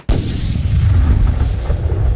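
A cannon fires a single loud, close boom that rolls on as a heavy, sustained low rumble for about two seconds, with no voices heard.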